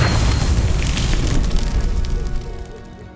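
An Incendio fire spell in the Hogwarts Legacy video game lets out a loud, dense roaring blast that holds steady and then fades over about three seconds.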